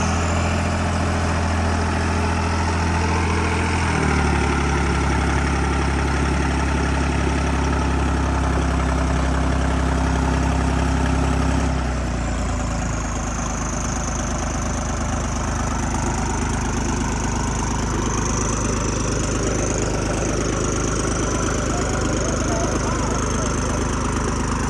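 A John Deere 5075 tractor idles during a towing contest against a New Holland bulldozer, giving a loud, steady low engine rumble that shifts in tone partway through, with a constant rough mechanical drone and no talking.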